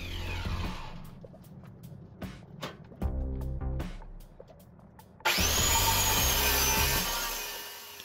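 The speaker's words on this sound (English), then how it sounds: "I went ahead and cut this other leftover piece in half as well" A leftover log piece is cut in half with a saw, giving rough rasping strokes followed by a loud, sustained high whine from about the five-second mark until near the end.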